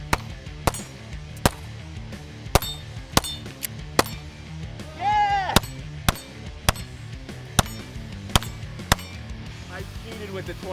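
Rapid single gunshots ring out at a target during a hunt, about a dozen sharp cracks spaced unevenly over several seconds, loud and close, over faint background noise with a brief tonal swoop in the middle.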